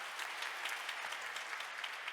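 Audience applause fills a hall at a Korean diaspora world mission conference: a steady, moderately quiet wash of many hands clapping that continues evenly without pause.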